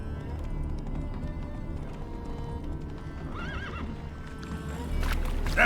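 In the video game The Witcher 3: Wild Hunt, a horse whinnies in a short wavering neigh over steady hoof clip-clop and galloping, closing with a louder burst of movement.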